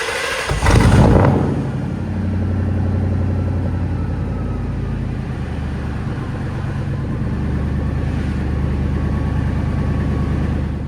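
A car engine cranks during a battery test with a short loud burst, then settles into a steady low idling rumble that continues throughout without any talking.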